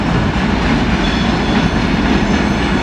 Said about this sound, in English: That's the end. It doesn't look like a locomotive on the end.